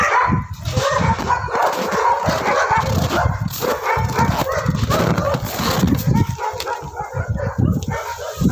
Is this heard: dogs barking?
yes